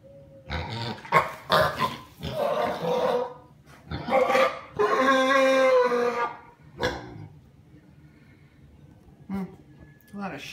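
A grumpy pet pig gives a run of snorting grunts, up close and fairly loud, mixed in with people talking to it.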